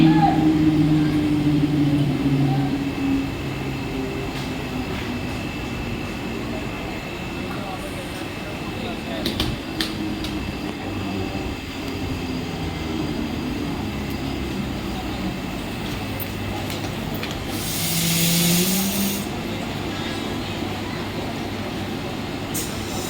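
A Mumbai slow local train bound for Thane arrives at a station platform at night, a steady rumbling roar running throughout with a brief louder swell near the end, while announcements and voices sound over it.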